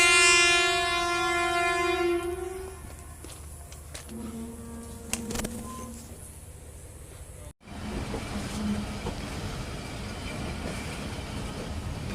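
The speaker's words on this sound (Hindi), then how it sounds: "फाटक का सिग्नल डाउन ना होने की वजह से अवाम एक्सप्रेस यहाँ पे रुक गई थी" An Awam Express passenger train of Pakistan Railways, halted at a level crossing, gives a long horn blast at the start. A quieter rumble and scattered clanks follow, then a steady broadband noise.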